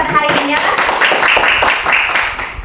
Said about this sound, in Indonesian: Tepuk tangan dulu untuk kita pada hari ini ya.